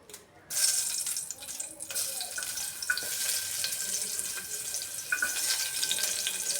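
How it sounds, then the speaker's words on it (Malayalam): Chopped shallots frying in hot oil while making Kerala kalathappam, a steady crackling sizzle that starts abruptly and continues evenly at moderate level. "അതിനുശേഷം ചുവന്നുള്ളി അരിഞ്ഞത് പൊരിച്ചെടുക്കാം"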